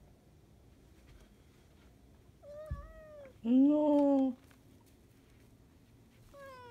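A cat gives a short meow, then a louder, drawn-out meow a moment later, with another brief meow starting at the end; a person says a single word.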